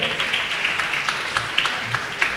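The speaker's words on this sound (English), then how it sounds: "Can we please get a round of applause for Dr. Ijaz Ahmed?" Audience applause at a community event welcoming a speaker, a continuous moderate clapping from a crowd with a few sharper claps standing out, heard on its own without talk.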